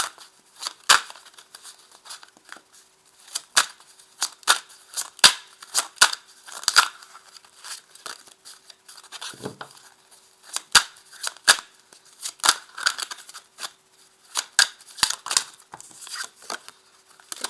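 Tarot de Marseille cards are shuffled and laid out, a close, dry run of crisp card snaps and flicks in uneven rhythm, with soft rustles between them and no voice.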